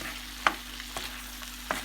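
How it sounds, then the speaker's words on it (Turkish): Red peppers, garlic and tomatoes fry in a pan with a soft sizzle, while a utensil stirs and scrapes them in about three distinct strokes, quiet and close. "kırmızı biber, sarımsak ve domates ilave edelim. Hepsini karıştıralım."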